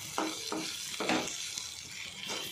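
Okra frying in a pan with dry coconut and garlic powder, stirred with a spatula in a few scraping strokes over a steady close sizzle.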